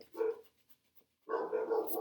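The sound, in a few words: dogs barking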